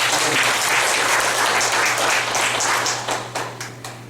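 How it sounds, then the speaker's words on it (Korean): Audience applause fills a university teaching-methods lecture hall, a loud, dense patter of many hands that holds steady and then thins into scattered final claps near the end, with a low steady hum underneath. "큰 박수 한번 주십시오"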